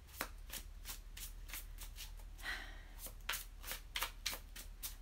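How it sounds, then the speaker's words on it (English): Playing cards being shuffled in a series of crisp riffling bursts, about a dozen quick flutters spaced across the clip, close and moderately loud with no talking. "Actually, while I'm shuffling the cards"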